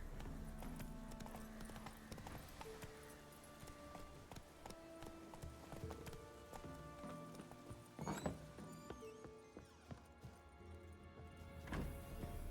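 A horse's hooves gallop steadily across open ground in The Witcher 3, with a brief neigh and other game sounds around it and no talk.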